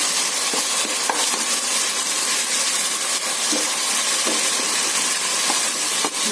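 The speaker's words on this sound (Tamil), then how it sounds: "இஞ்சி, பூண்டு, சின்ன வெங்காயம், கொஞ்சம் பட்டை, லவங்கம், இந்த ஸ்பைசஸ்லாம் போட்டு அதை இதை கொட்டி பச்சை வாசம் போகிற அளவுக்கு வதக்கிக்கலாம்" Ginger, garlic, shallots and whole spices such as cinnamon and clove sautéing in hot oil in a pan for mutton biryani, a steady close sizzle and hiss with a few soft stirring scrapes throughout.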